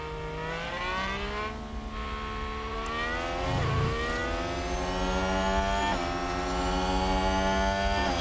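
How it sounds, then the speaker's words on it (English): Ferrari Formula 1 race car engine in F1 Manager 2022 at the British GP, a loud continuous high-pitched whine with rising and falling revs across gear changes, heard alone throughout. "There's that bloody Ferrari though."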